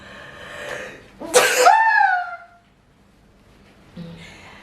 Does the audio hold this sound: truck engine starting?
no